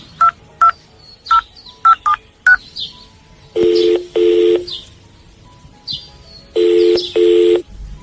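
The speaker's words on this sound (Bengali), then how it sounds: "ঝন্টু যাবার ঘন্টাখানেক বাদে অনুপম ফোন করলো রাকার শ্বশুর বাড়িতে।" A telephone being dialed: a run of short, evenly spaced keypad beeps, followed by longer paired ringing tones, with chirpy background sounds between them, loud and close.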